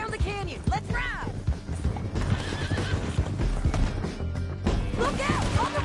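Several horses gallop with rapid clip-clop hoofbeats and repeated loud neighs during a canyon chase in Red Dead Redemption 2, with crashes and thuds mixed in and shouting voices over the action.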